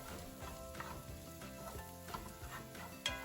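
Diced carrots, celery and onion sautéing in olive oil, with a soft steady sizzle and light intermittent stirring clicks from a utensil against the pan, close and quiet.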